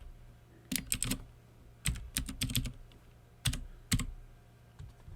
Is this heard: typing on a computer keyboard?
yes